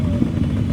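A motorcycle engine rumbles steadily at close range for a brief moment as the vehicle moves off during a crowded Ganesh procession.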